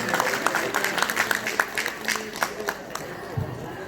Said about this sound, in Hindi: सभी लोग तालियां बजा करके स्वागत करें जोरदार